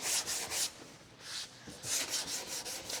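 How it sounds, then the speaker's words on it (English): A sanding block rubbed over a black Chevy car hood in a quick cross-hatch pattern, giving repeated close, raspy strokes in a steady back-and-forth rhythm with brief pauses between passes. "it's just best to run it over with the block real quick. In a quick cross-hatch pattern."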